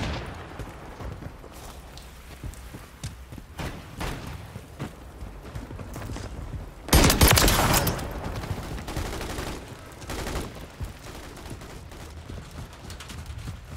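Battle rifle fire in an online shooter game, with scattered single and short bursts of shots over a busy in-game background and one loud cluster of firing midway.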